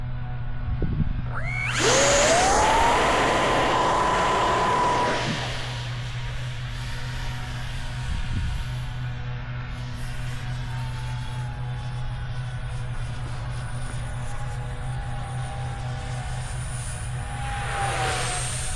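A model NGAD jet airplane spools up with a rising whine and roaring rush as it takes off on a bright sunny day, then fades to a distant, steady drone as it flies away.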